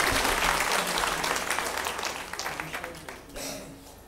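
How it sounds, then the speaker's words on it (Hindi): An audience at a Vasant Parv evening gathering at Shantikunj, Haridwar, welcomes a guest with loud, dense applause that gradually thins into scattered individual claps, with a brief voice and noise rising near the end. "जोरदार तालियों से स्वागत करें।"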